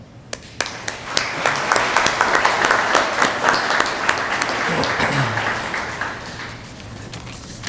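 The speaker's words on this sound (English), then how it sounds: "So, Joe, I just want to give you and Ben applause" Sustained applause from a gathered crowd at a restaurant ribbon-cutting ceremony, with many hands clapping steadily for several seconds at a fairly close, lively level.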